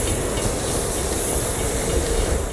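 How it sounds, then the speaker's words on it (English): A moving train in the video game Borderlands 2, Headhunters DLC, rolls on with a steady dense rumble and hiss, a continuous close wash of rail noise with faint clatter throughout. "we gotta keep this train on schedule"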